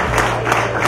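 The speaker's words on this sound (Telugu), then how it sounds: "గట్టి చప్పట్లు" An audience claps together at a brochure launch for GreenMetro's Haritha Vanam, a brief, steady burst of dense applause filling the room.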